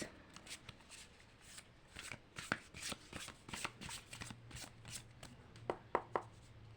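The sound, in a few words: shuffling tarot cards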